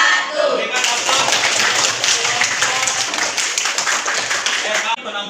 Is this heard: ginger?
no